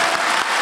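An audience at a Kyrgyz aitysh improvised-poetry contest claps in a brief, dense burst, loud and close, with no talk over it.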